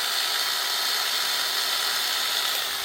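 An agate polishing wheel machine runs with a steady, bright whirring hiss, constant and fairly loud throughout with no voices.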